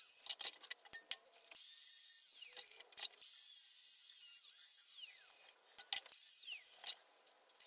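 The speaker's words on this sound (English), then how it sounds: "I'll now use the grinder to make the tang a little bit longer." A bench grinder works the metal tang of a wood turning tool, its high whining grind rising and falling in several long, close passes with short breaks between them.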